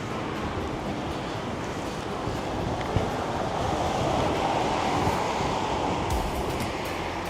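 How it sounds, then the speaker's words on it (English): Strong wind buffets a muffled microphone in a suburban setting near Perth, Western Australia, producing a continuous heavy rumbling roar with slow surges and no speech. "It's very windy, so I've got your microphone underneath my shirt"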